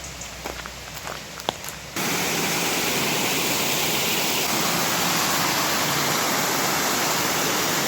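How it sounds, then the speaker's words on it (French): A small waterfall on a hiking trail gives a loud, steady broadband rush that begins abruptly after a quieter opening with a few faint clicks, then continues unbroken at close range. "Une belle petite cascade."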